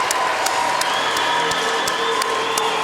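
Crowd at a boys' high school section quarterfinal hockey game in a rink applauds a goalie's big save: a steady, even roar of clapping and crowd noise with a few sharper claps standing out at intervals.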